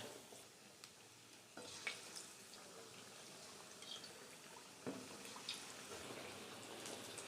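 Potato bhaji fritters, potato slices dipped in batter, frying in hot oil with a steady soft sizzle and occasional stirring clinks, faint and close with no talk.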